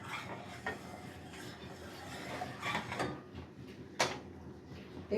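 Milk thickening in a pot on the stove is stirred with a spoon, making soft repeated scraping and clinks, with a sharper knock near the end, close and quiet.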